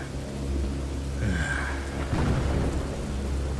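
Steady rain pours in a forest on a cold night, a low roll of thunder rumbling beneath the constant wash of drops around the midpoint, with no talking.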